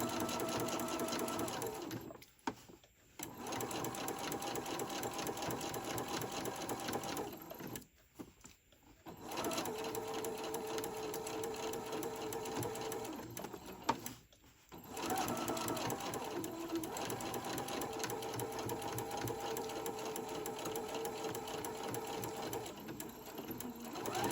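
A sewing machine runs top stitching across a ruffle-trimmed tote bag, a steady close rattling drone broken by three short pauses, with faint talking underneath.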